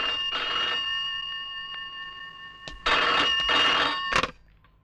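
A telephone rings in two bursts of electronic trilling bells, a short ring first, then a pause and a longer double ring, loud and close with no talk over it.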